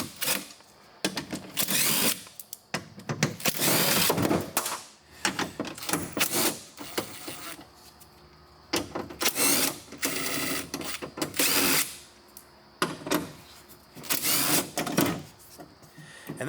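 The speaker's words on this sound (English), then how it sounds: "take my 10mm socket and remove these 3 and these 3 bolts" A 10mm socket wrench whirs and ratchets in repeated bursts of a few seconds each, separated by brief pauses, loud and close, removing bolts from a car door's window regulator and motor assembly.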